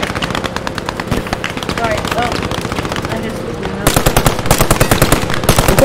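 Sustained machine gun fire in the Post Scriptum video game, Haguenau map, with rapid evenly spaced bursts that grow louder and sharper partway through, loud and close, over a constant battlefield din.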